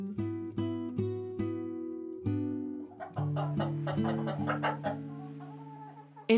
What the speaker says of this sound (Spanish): Acostumbraban a tener un gallinero con pollos, gallinas, algún gallo.